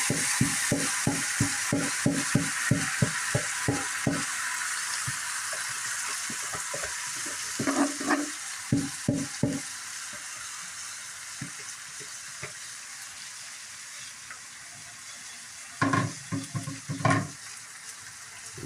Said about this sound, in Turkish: Önce bunu kavuracaksın.